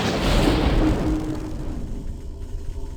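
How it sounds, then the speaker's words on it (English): A World of Warcraft critical hit strikes with a heavy, loud, booming thump, and the impact fades gradually over about three seconds. "That's the sound of being critted in the face."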